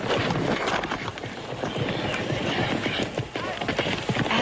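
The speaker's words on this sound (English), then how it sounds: "They got a little old horse over there all ready for you." Horse hooves clip-clopping in a frontier ranch setting, a steady run of hoofbeats under a busy, noisy mix with faint voices.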